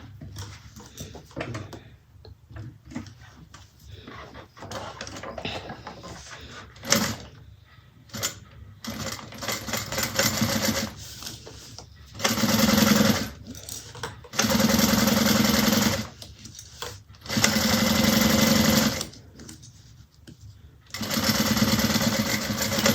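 A sewing machine sews a bag seam at 3/8 inch in several loud, steady whirring runs of a few seconds each. Quiet gaps filled with handling noise separate the runs, which grow longer and more regular toward the end.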